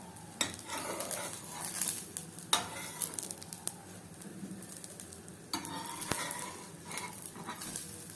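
A rice rava attu, an uthappam-style dosa of rice semolina and urad dal drizzled with oil, cooks on a pan over medium-low heat, giving a steady soft sizzle with occasional sharp clinks and scrapes of a utensil against the pan.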